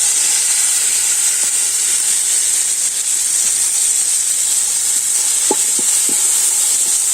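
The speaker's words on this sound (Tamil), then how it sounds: "அடுத்து தக்காளி போடுங்க" Tomatoes tipped onto lightly browned onions in a village cooking pan for crab curry set off a steady, loud frying hiss throughout, with a few faint clinks of stirring near the end.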